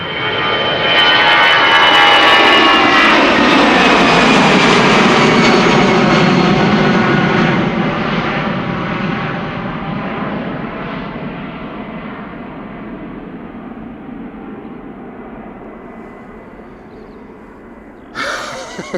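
Aer Lingus jet departing Amsterdam Schiphol for Dublin, its engine roar swelling loud and close at takeoff, then slowly fading into a distant rumble as it climbs away.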